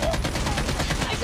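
Rapid automatic gunfire from the mobile shooter game Call of Duty: Mobile in a team deathmatch, a quick run of shots close and loud across the brief moment.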